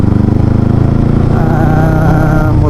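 A motorcycle riding alongside on a road at night, its engine a steady, loud mid-pitched drone held close throughout with no talk over it.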